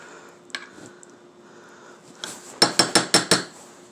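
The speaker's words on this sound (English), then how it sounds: "we're going to want to stir our beefaroni" Spoon stirring canned Chef Boyardee Beefaroni in a metal pot, a few faint scrapes and then a quick run of five sharp, ringing clinks at close range, with no talking.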